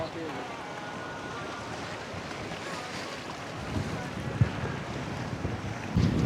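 Strong wind gusts across a rocky seashore at a fishermen's village in Sindh, a steady, loud roar of wind noise over the microphone mixed with surf, with a few thumps.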